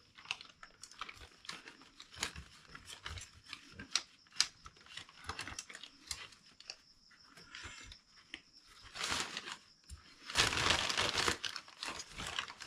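Snips cut a rubber carburetor vent tube for a blow-through Holley setup, giving a string of close, crisp clicks and crinkling snaps with a louder rustling burst near the end, no talking.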